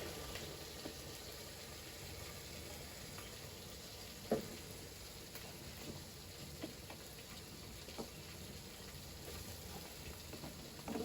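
Ginger and garlic frying in a pan for beef khichuri, a steady soft sizzle with a few light clinks of the spoon against the pan, faint and continuous throughout, no talking.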